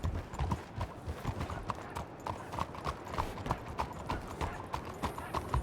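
Horse hooves clip-clop steadily in a WildRP roleplay video game, a continuous close rhythmic trotting that runs throughout with no voices over it.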